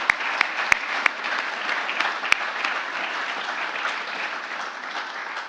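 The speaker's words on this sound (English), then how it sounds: "Could we have a round of applause for Michelle" Sustained audience applause at a certificate program graduation ceremony, a dense steady wash of clapping with a few sharper individual claps standing out early, moderately loud and continuous throughout.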